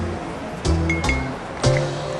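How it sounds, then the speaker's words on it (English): Ice cubes clinking against a container as water is poured in to make ice water for tempura batter, with a few distinct clinks over a running watery wash, no talk. "here I have some ice and some water to make ice water."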